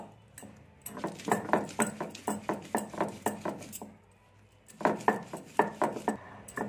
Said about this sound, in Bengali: আমি একটু রসুন বেটে নিচ্ছি, রসুনটা দেবো